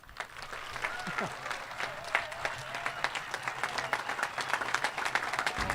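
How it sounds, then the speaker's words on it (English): Loud, sustained applause from an audience honouring Tom Watson, dense clapping filling the whole stretch with a steady crowd texture. "Let's give a loving and loud round of applause to Tom Watson."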